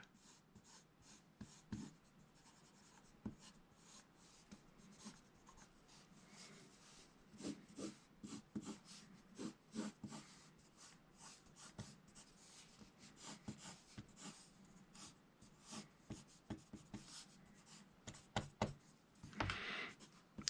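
Pencil drawing on animation paper, faint close scratchy strokes and soft rubbing in irregular bursts, with occasional light taps against the sheet.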